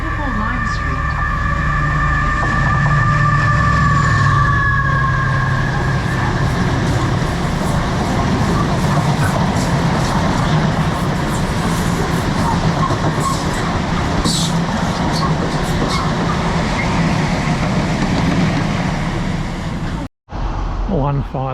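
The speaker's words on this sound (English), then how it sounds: "There comes the train." A delayed East Midlands Railway service bound for Liverpool Lime Street pulls into platform 1 with a loud rolling rumble, a long horn-like tone early on, and rattling wheels; a voice speaks over the approach.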